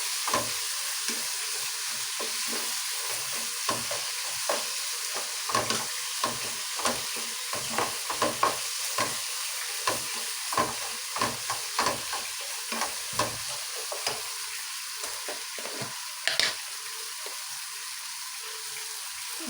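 Spices frying with turmeric in a hot pan, a steady sizzle and crackle running throughout with frequent scraping stir strokes, close and alone with no talk.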